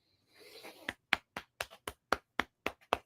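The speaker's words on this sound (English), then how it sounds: "Give yourselves a round of applause for making that happen." A handful of separate hand claps, sharp and evenly spaced about a quarter second apart, close and fairly quiet, preceded by a brief soft rustle.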